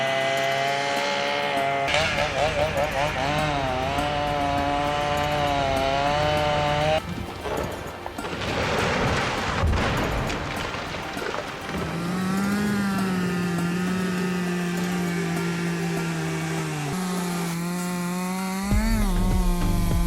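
A high-powered steel chainsaw cuts through a massive tree in a forest. The engine roars and bogs continuously, its pitch wavering as the chain bites into the wood, loud and close for the whole stretch with no talking.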